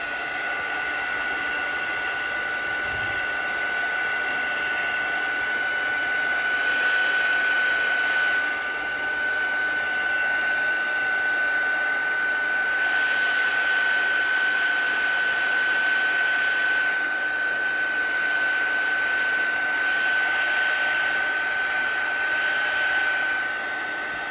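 Hair dryer blowing on a watercolor painting of flowers, a loud continuous whirring drone with a steady whine, shifting slightly as it moves, running for over twenty seconds alone.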